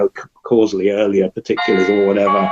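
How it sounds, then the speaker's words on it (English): A doorbell chimes its ringing tones partway through, bright and steady, heard beneath someone talking close up. "Sorry, that's the doorbell."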